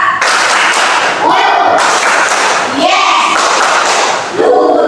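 A group claps hands in a counted classroom rhythm game, bursts of loud, dense clapping filling the clip between brief chanted counting voices.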